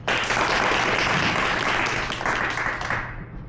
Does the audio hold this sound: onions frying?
no